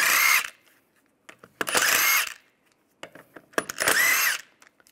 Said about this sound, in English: we're gonna take off the lug bolts